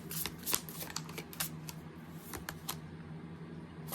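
Tarot cards shuffled by hand before drawing a card, close and moderately quiet, with a continuous rustle broken by crisp repeated riffles and taps, no talk.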